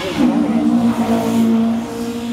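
A rally car races past on the Lisburn street stage of the Circuit of Ireland Rally, its engine giving a sustained high droning rev close by. The pitch holds steady as the car goes by.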